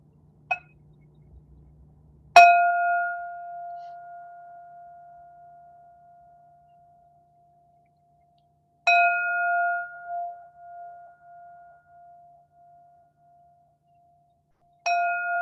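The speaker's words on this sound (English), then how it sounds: "Finishing up third bell and moving into fourth bell." A meditation bell at a yoga session rings three times at long, even intervals, each strike a clear bright tone that slowly fades into near silence.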